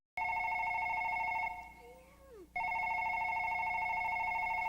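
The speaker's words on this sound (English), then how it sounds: "Answer the phone." A telephone rings loudly and steadily with a sustained electronic tone, breaking off for about a second while other faint sounds slide through, then resuming at full volume.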